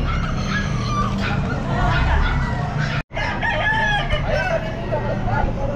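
A full-grown gray stag rooster, about 13 months old, crows loudly and repeatedly in a busy Calumpit pet market, with clucking from other fowl and faint voices in the background.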